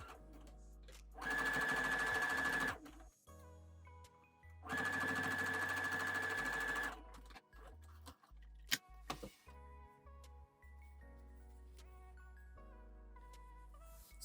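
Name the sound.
sewing machine stitching a flat felled seam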